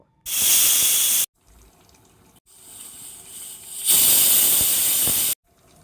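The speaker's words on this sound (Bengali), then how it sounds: "প্রেশার কুকারের ঢাকনাটা ভালোভাবে লাগিয়ে নেব চার থেকে পাঁচটা সিটি দিয়ে নেব" A pressure cooker vents steam in strong hissing bursts, some loud and some softer, separated by brief silent gaps.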